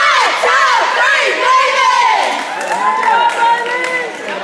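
A youth team shouts a cheer together after a countdown at a medal ceremony, many voices yelling in a loud, drawn-out group chant with whoops.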